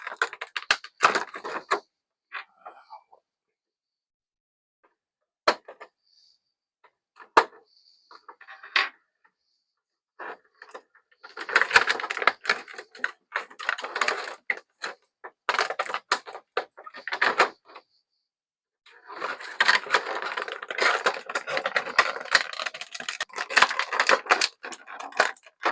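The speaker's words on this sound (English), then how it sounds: "All that rustling plastic" Stiff plastic packaging from a Star Wars Black Series three-pack figure set crinkles and crackles in bursts of close, sharp rustling. The rustling comes in short clusters with brief pauses, then grows denser and more continuous toward the end.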